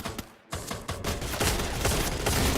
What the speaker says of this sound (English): Oh, shots are being fired, and we have Gizmomo losing a few of their members, and gunshots from above.